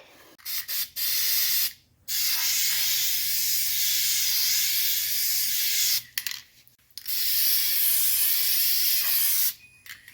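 An aerosol can sprays flat black paint onto a taped-off gauge cluster from a 1995 E320 wagon, loud and close, in three long hissing bursts separated by short pauses, with faint clicks between them.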